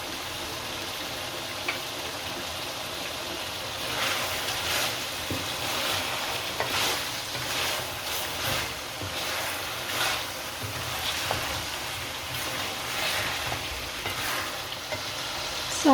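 Chopped bell peppers (shimla mirch) sizzle steadily as they fry in a mutton karahi, with continuous crackling oil and occasional stirring scrapes, close and fairly loud, no talk.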